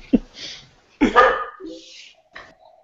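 A dog barks in a few sharp, separate bursts spread across a short stretch, fairly close and loud, with faint talk around them.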